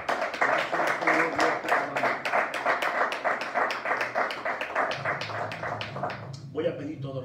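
A church congregation at an evangelistic miracle-night service claps in a fast, regular rhythm, loud and close, with voices calling out over it before the clapping gives way to speech at the end.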